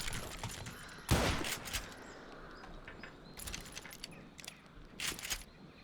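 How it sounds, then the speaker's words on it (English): Sawed-off rifle fired in the Western shooter Call of Juarez: Gunslinger, with one sharp blast followed by two or three fainter shots spaced a few seconds apart over a quiet background. "Rifle de cano cerrado, rifle. É um riflinho mais curto."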